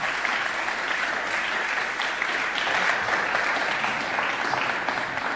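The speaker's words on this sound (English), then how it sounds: "let's kick the festival off with a round of applause for Hannah" An audience at the opening of the Beckett Unbound festival gives a sustained, even round of applause welcoming keynote speaker Dr Hannah Simpson, a dense steady roar of clapping lasting several seconds without talk.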